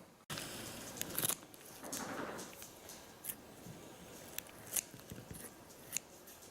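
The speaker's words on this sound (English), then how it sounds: "pinch a little tuft of the microgreens, cut them with some scissors" Quiet snips of scissors cutting microgreens, a few sharp cuts spaced irregularly, close and faint against a soft background hiss.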